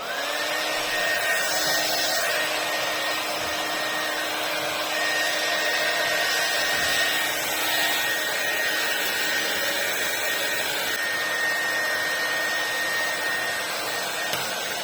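A hair dryer blows steadily and loudly for the whole stretch, a constant whirring roar with a high motor whine and no talking.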